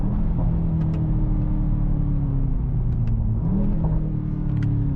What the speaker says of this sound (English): You can go through the rev range.